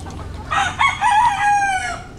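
A rooster crows loudly nearby while hens cluck around it, a short burst of farmyard poultry calls.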